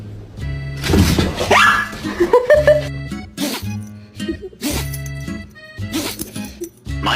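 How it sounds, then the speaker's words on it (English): A deaf dog makes strained, breathy attempts at barking, a series of short, uneven huffs and voiced bursts, close and moderately loud, repeating in irregular clusters with no speech. "My deaf dog thinks she's barking."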